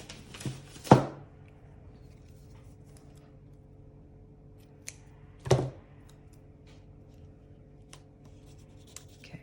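Scissors snip through paper being cut for a collage, two short crisp cuts a few seconds apart in a quiet room, with faint rustles of handling between them.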